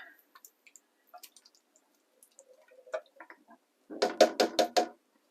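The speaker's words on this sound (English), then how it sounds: "grab that tin of baked beans, rip it open, in they go." A tin of baked beans is ripped open and tipped into a simmering pot of beef and bean one-pot stew: scattered small clicks and taps, then a close, loud burst of four or five thick, wet glugging plops.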